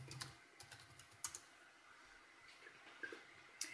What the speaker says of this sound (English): So you're going to type your username and then your password.